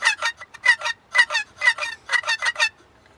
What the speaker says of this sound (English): That's a goose call.